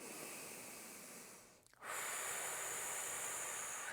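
A long, airy yoga breath fills the quiet, a steady hiss that fades out, breaks off for a moment, then returns as a fresh, stronger inhale that carries on to the end.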